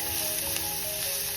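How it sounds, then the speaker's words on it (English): Onion stir-fries with garlic in a pan for homemade Schezwan noodles, with a steady close sizzle and a faint scrape or two. "we have to add the onion and stir fry it with the garlic"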